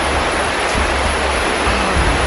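Steady, loud roar of a forest waterfall heard up close, a dense unbroken wash of falling water filling the whole clip with no voices.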